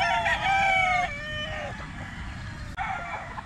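A national banded stag rooster crows once, clear and fairly close, its drawn-out call fading after about a second, followed by softer clucking and faint farmyard background noise.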